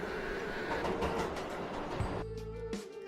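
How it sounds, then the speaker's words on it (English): A tram rolls on rails through an underground tunnel, a dense steady rumble with rail clatter for about two seconds before it gives way to quieter sustained tones. "Suddenly, the tram slowed down and entered a vast, dimly lit underground station."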